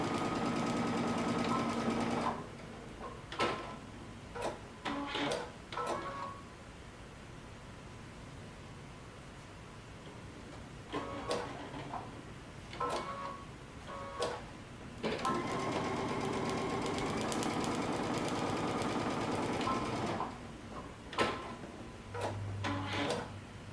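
A home sewing machine stitches a 5/8-inch seam in a coat lining, running in several short bursts and longer steady stretches separated by quiet pauses, with no talking.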